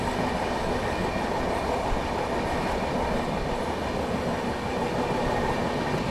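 A passenger train runs past Jalgaon railway station in India while overtaking a freight train, on a journey from Chhatrapati Sambhajinagar to Gaya. Its steady, rumbling rattle of wheels and carriages continues throughout at an even loudness, with no voices.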